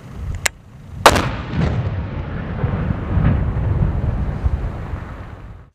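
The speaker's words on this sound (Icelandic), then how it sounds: "Landhelgisgæslan hefur þurft að eyða þó nokkrum tundurduflum." Naval mines detonated at sea by the coast guard: a sharp distant crack, then a louder blast that rolls into a long, deep rumbling boom fading slowly over several seconds, heard from afar with no voices.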